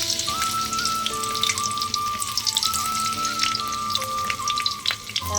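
Chopped ginger crackles in hot white oil in a kadai for egg chow mein, a dense spattering patter of popping droplets that goes on steadily throughout, close and fairly loud, with no voices.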